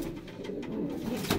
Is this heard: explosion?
no